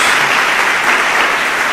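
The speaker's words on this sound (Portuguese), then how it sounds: "Dê uma salva de palmas ao Senhor." Sustained applause from a worship congregation at a Portuguese-language church service, a thick, even roar of many hands clapping together, loud and continuous throughout.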